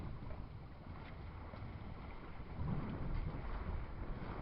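A boat crosses the Bideford Bar in wind, with a continuous rush of wind and water around the hull that swells louder partway through and stays heavy to the end, no speech.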